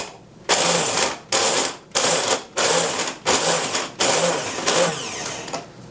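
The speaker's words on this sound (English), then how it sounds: "It's a little mini mixer, and ginger is so hard to grate, and this does it effortlessly" Small mini mixer grinding peeled ginger in short whirring bursts, about seven pulses, each a loud buzzing spin separated by brief pauses, close and alone.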